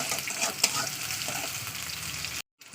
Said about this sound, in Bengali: দিয়ে দিচ্ছি পেঁয়াজ পেঁয়াজটাকে একটু লালি করে ভেজে নিতে হবে